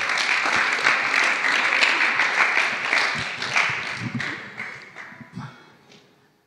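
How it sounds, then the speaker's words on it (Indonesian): Applause from a youth worship service congregation at a church: a full round of close clapping that holds steady for several seconds, then thins into a few scattered claps and fades out. "Tepuk tangan untuk Desi."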